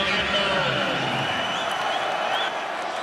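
A stadium crowd at an LSU vs Florida college football game applauds and roars as a steady, loud wash of noise, with a commentator's voice running over it.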